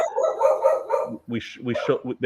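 A dog barks several times in quick, close succession, sharp and fairly loud, after a stretch of someone talking during a football chat.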